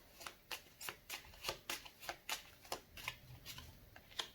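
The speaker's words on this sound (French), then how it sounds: "Je vais reprendre une carte." Tarot cards being shuffled and drawn, heard as a steady run of soft, crisp riffling flicks at an even rhythm, close and quiet, with no voices.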